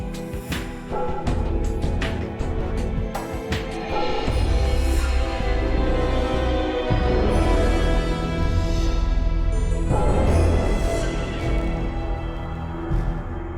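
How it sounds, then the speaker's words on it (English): Layered video game music plays continuously, with sustained tones and shifting textures that swell and ease as one section flows smoothly into another. "there's a little transition piece which allows for a smooth transition"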